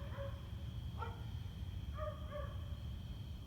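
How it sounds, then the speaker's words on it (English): A dog barks at night in the distance near the Crescent Park Looff Carousel, with a few faint yips and barks spread across a steady background hum. "We have a dog barking now?"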